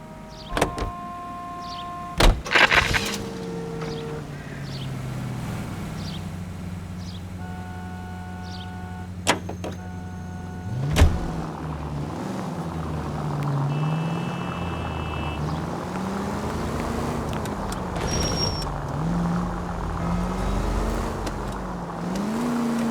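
In L.A. Noire, a car starts with a door and mechanical clunks, then drives along with a steady engine hum that swells and dips, while occasional game tones and beeps sound over it.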